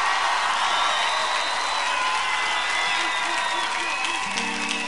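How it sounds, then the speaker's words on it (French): Crowd applause and cheering at a live rock concert at the Francofolies festival in Montreal, a loud continuous wash of clapping with scattered whoops and band instruments sounding underneath. "on dirait que vous vous applaudissiez vous-même"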